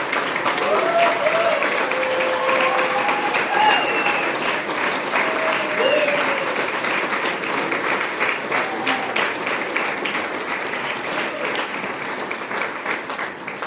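A crowd applauds Hall of Fame inductees at the 2025 Tampa Spartan Hall of Fame event. The clapping is dense, sustained and steady for the whole stretch, with some faint voices mixed in.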